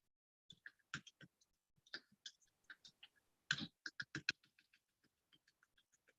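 Password being typed on a computer keyboard: quiet, close key clicks in irregular bursts, some quick runs of several keys and scattered single taps with pauses between, in an otherwise silent room.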